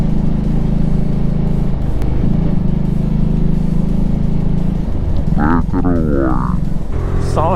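A Yamaha R1M with an Akrapovic exhaust rumbles loudly and continuously while riding through city traffic, then blips the throttle in quick rising and falling revs near the end.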